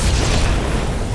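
A grenade blast in the video game Halo 2 Anniversary: a loud, dense, low explosive rumble filling the whole short moment, with no speech over it.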